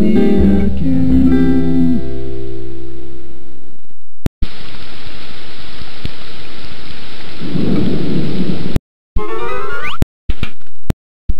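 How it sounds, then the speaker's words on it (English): Thunder rolls and cracks over steady pouring rain in a Berenstain Bears Living Books game, a loud rumbling storm with sharp isolated clicks and brief gaps of silence near the end. "It's raining, it's pouring, will this storm ever end?"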